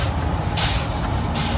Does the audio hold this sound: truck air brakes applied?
yes